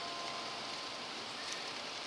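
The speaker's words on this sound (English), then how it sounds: "Look, it's raining still" Rain falls steadily outdoors as a faint, even hiss with no break or change, and nobody speaks.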